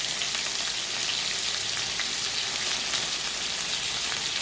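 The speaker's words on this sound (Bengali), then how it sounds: "লাল করে আলুগুলো ভেজে নিব।" Potatoes frying in oil in a pan, a steady, dense sizzle that crackles evenly at close range throughout, with no voices.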